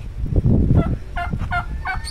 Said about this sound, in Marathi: ह्या इकडे या जाळीमध्ये पान कोंबडे आहेत